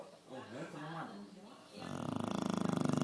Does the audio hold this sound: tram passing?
no